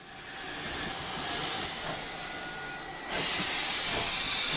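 A steam locomotive in a train simulator game hisses steadily through a flat yard, a broad continuous rush of steam with a faint low chuff underneath that grows louder and brighter near the end, with no talking.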